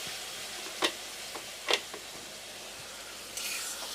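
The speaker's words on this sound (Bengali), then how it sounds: "অল্প একটু গরম জল দেবেন যাতে মশলাগুলি পুড়ে না যায়।" Spices for a chickpea dal curry with potatoes fry in a pan as a little hot water goes in, giving a steady soft sizzle broken by a few sharp ticks and clinks of stirring, with a brief burst of hiss near the end.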